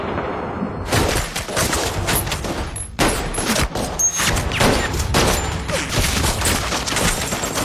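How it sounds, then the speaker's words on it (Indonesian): Heavy, rapid gunfire from an action film shootout crackles in dense bursts throughout, close and loud, with overlapping shots and booms forming a sustained barrage. "Dihujani tembakan, Takeshi dan Akemi berlari keluar dari sana"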